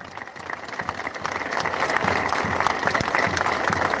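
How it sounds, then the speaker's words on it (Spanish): Loud, sustained applause from an audience at the inauguration of the Hospital de Cerro in Uruguay, steady clapping swelling slightly and continuing throughout. "quiero pedirles un fuerte aplauso"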